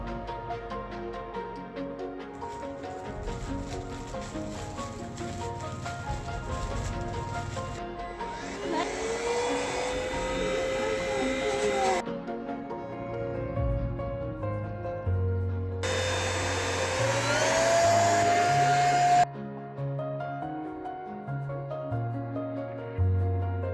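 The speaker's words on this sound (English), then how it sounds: "if you want to vacuum the seats, the upholstery, this is what you use, the nozzle, the long nozzle" An Oraimo CyberVac handheld vacuum cleaner runs with a long nozzle on car seats and upholstery, a steady motor whine that surges and changes pitch in bursts as the nozzle moves, close and loud with no talk.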